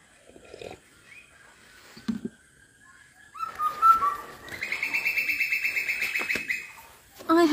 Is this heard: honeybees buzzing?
no